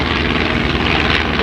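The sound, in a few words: airshow plane side-slipping as it comes down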